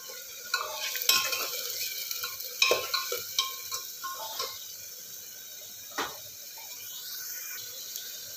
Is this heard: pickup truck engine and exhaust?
no